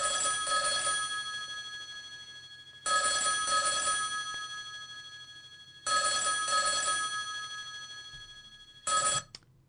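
Telephone bell ringing as a theatre sound cue fired from QLab, sounding in three long bursts about three seconds apart followed by a short fourth burst, loud and clear with no talk.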